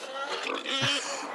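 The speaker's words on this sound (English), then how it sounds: "I remember the pig vividly." A farm pig gives a short run of grunts and snorts, close and fairly loud, with a deep snuffling burst near the end.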